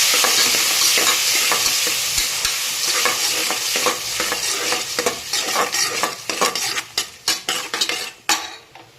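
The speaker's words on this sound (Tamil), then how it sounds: "அந்த தக்காளியை இதில் போட்டுக்கோங்க. நல்லா வதக்கி விடுங்க." Chopped tomatoes are sautéed and stirred in a pan while cooking tomato rasam rice. A steady close sizzle runs under repeated scraping and clinking of a spoon against the pan, with the stirring strokes becoming sharper and more distinct toward the end.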